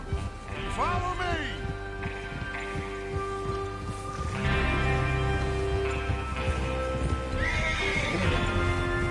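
Horses gallop with steady, close clip-clop hoofbeats in the Red Dead Redemption 2 video game, and loud neighs and whinnies rise at roughly one, four-and-a-half and eight seconds.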